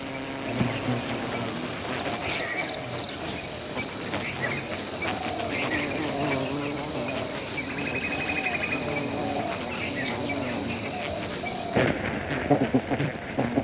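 Bees swarm around hives in Assam with a dense, continuous buzzing drone and a high insect-like whine that holds steady throughout, close and fairly loud, with no voices.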